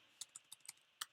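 Typing on a computer keyboard for freehand journaling in a Notion workspace: six quick, faint key clicks in an uneven rhythm, heard close up in a quiet room with no talking.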